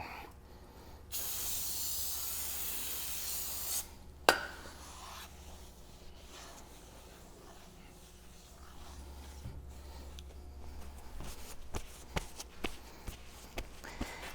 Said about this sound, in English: I'm going to clean the grease and grime off the back side of the rotor.